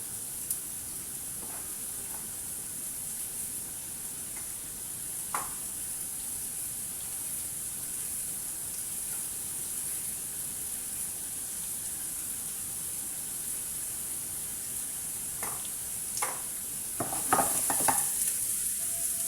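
Onions sizzling in a hot pan while cooking roasted meat, rice and vegetables, a constant close frying hiss with a few soft scrapes and clinks of stirring near the end.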